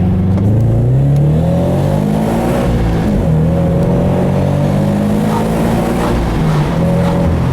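A supercharged Subaru BRZ accelerates hard through the gears, engine pitch climbing in several rising sweeps with brief dips at shifts, loud and close with no talk.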